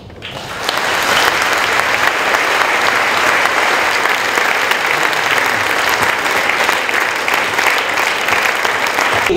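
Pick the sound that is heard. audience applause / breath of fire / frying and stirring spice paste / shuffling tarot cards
audience applause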